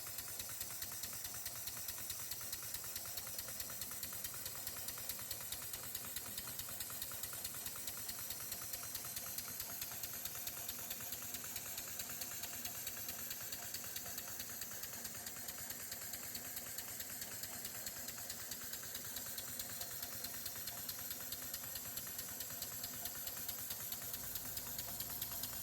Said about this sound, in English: The engine ran very well after adjusting the timing.